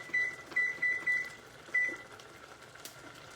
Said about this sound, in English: I'm going to set the timer for 5 minutes